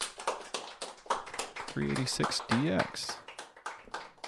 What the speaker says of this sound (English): We gotta do a clap for that